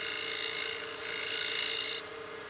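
A tool rasps steadily against the spinning wooden nub at the foot of a lathe-turned utility box, a continuous close scraping hiss that drops off abruptly near the end.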